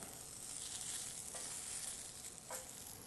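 Tomatoes charring over high heat give off a steady, close frying sizzle with faint crackles and hiss throughout, and a couple of brief sharper pops. Nobody speaks.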